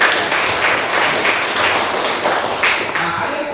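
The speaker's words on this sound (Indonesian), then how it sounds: "Mari kita beri tepuk tangan untuk semua." A crowd applauds steadily and loudly, dense clapping holding throughout a few seconds.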